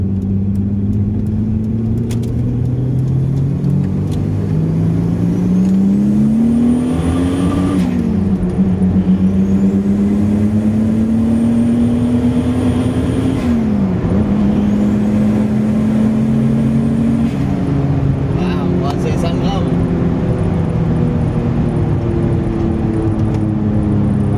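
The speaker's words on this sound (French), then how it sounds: "je dirais que j'ai des poussoirs qui font du bruit un peu." A car engine with an internal wastegate and noisy tappets runs continuously on its own, holding a steady idle broken by a few slow rises and falls in revs.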